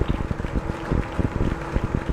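Rough, buffeting rumble from a microphone mounted on a Rocket Lab Electron rocket in flight, with dense, irregular low thumps and crackle running throughout, close and fairly loud.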